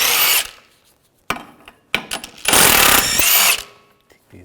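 A power tool with a 16mm socket spins off suspension nuts on a 2011-2018 Volkswagen Jetta TDI wagon, in two loud whirring bursts, one brief and one longer, separated by clanks and clicks of metal handling.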